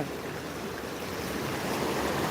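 Water rushes under strong pressure through a flowing channel, a fairly quiet but constant hissing, surging wash that swells slightly near the end, with no voices.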